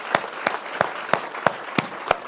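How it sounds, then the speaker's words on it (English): Panel audience applause heard as rhythmic, evenly spaced claps, about seven loud distinct hits over a soft background patter, close and without talk. "Big round of applause for our panellists."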